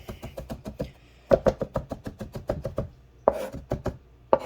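A knife minces garlic on a cutting board in quick bursts of sharp, close chops, pausing briefly between runs of rhythmic taps.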